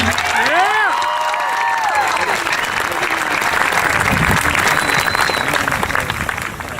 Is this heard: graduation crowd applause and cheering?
yes